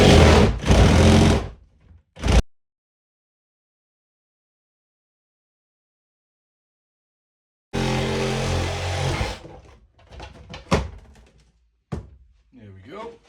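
A power tool cuts a channel in the bottom of a cold water storage cistern being removed: two loud, close buzzing bursts separated by silence, then knocks and clatter.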